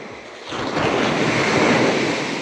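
Ocean waves at Chavakkad Beach in Kerala, a broad roaring wash of surf swelling up after a quieter start, mixed with wind buffeting the microphone, with no voices.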